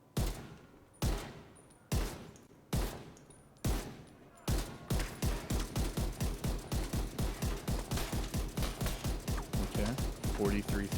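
Video-game gunfire from The Division: five single shots spaced about a second apart, then a rapid, sustained automatic burst of evenly repeating loud reports until the end.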